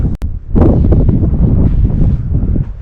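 Strong wind roars across a microphone high on Cotopaxi volcano, a loud, steady buffeting rush after a brief quieter start.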